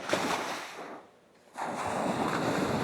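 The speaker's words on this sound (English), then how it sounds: "Looking at these waves is so nice." Ocean surf washes onto a beach in La Union, Philippines, in the early morning, a broad steady hiss of breaking waves that dips briefly before surging back, with some wind on the microphone.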